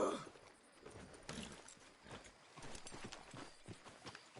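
Horse hooves in Red Dead Redemption 2, a faint, uneven clip-clop of steps continuing for several seconds under quiet ambience.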